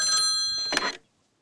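Telephone bell ringing as a sound effect in a Korean radio drama set in a vice premier's office, a loud close mechanical ring that stops abruptly after about a second, followed by silence.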